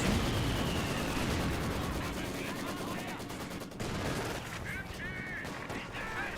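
Maxim machine gun fire in the World War II strategy game Company of Heroes 2, aimed at Panzer Grenadiers, sounds as dense continuous battlefield gunfire with other weapons, under a commentator's steady talk.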